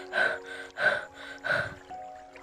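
A voice imitates a tired boy panting, making three ragged, breathy gasps in an uneven rhythm, fairly close and soft, followed by a brief quiet tone.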